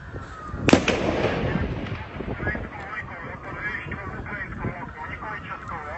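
A sharp, loud gunshot cracks once near the start, followed by fainter distant pops under talking and radio chatter, during a mass shooting at Charles University's Faculty of Arts in Prague, the gunman firing through a fence.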